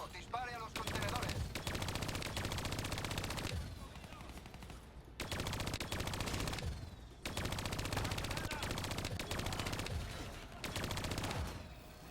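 Sustained rapid gunfire in Call of Duty: Black Ops 3 as containers are shot during virtual training, loud automatic bursts in three long stretches with short lulls between them.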